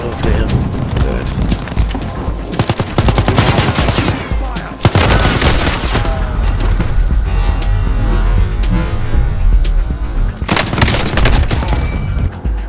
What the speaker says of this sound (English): They just went to the corner and started shooting at each other.